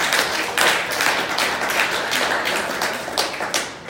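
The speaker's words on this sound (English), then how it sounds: "can we give another round of applause for him?" Small audience at a 5th Ward aldermanic candidate meet-and-greet in Hyde Park clapping for a candidate: close, fairly loud, uneven hand claps continuing for a few seconds.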